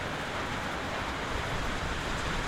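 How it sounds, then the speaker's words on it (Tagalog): Steady, continuous rain patters down at a campsite in Mauban, Quezon, an even dense hiss with no gaps or voices, moderately loud throughout. "pero tuloy-tuloy talaga yung ulan."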